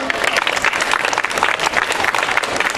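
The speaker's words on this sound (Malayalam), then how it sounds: "എല്ലാവർക്കും നല്ലൊരു കയ്യടി കൊടുക്കാം" Audience clapping steadily at St Michael's UP School anniversary celebration in Michaelgiri, a dense continuous applause filling the hall throughout.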